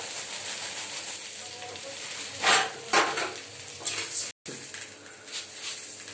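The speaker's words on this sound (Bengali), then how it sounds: "এই মুড়িটা অ্যাড করলাম," Puffed rice tipped into a pan for jhal muri and tossed with a spoon, making dry rustling scrapes and metallic clinks in a few bursts, a brief silent dropout midway, and faint room noise around it.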